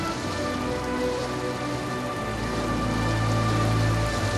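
A steady downpour of heavy rain forms a continuous, uniform wash of noise that thickens slightly toward the end, with no one speaking.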